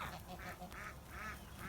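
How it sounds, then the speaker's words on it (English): Geese ranging outdoors in the rain honk several times in quick succession, faint and a little distant. "And then the geese"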